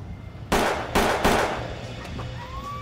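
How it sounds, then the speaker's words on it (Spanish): Three sharp gunshots ring out on a street corner, spaced roughly half a second apart and close by, each a loud broadband crack with a short decay, over quiet ambient background and no talk. "Uno disparó 3 veces y salieron huyendo"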